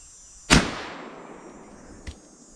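A single sharp gunshot fired while hunting squirrels, loud and close with a long decaying tail, followed about a second and a half later by a much fainter short knock.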